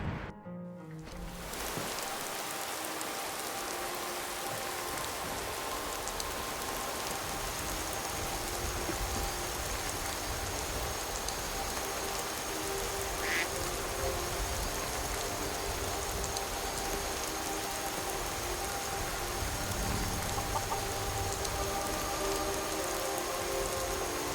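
Steady, dense rainfall in the Skyrim video game, a continuous broadband hiss of drops on surfaces that holds at an even, fairly loud level with no talk over it.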